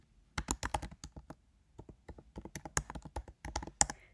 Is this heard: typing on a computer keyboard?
yes